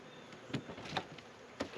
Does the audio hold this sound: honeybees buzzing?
yes